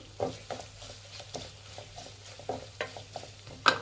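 Andhra-style chilli chicken is mixed with chilli powder in a pan, heard as a faint low sizzle under a series of irregular, quiet scraping and tapping strokes of the spoon.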